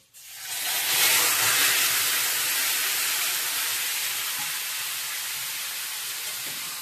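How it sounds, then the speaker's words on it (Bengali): Chicken pieces drop into a hot kadai and immediately erupt into a loud, steady sizzle that holds close and continuous, easing only slightly as it settles. "চিকেনটা এবার দিয়ে দিচ্ছি কড়াতে।"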